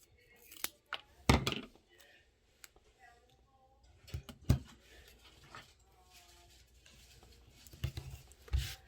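A gift bag is cut in half with scissors in a few short, separated snips and rustles, close by, with long silent gaps between them.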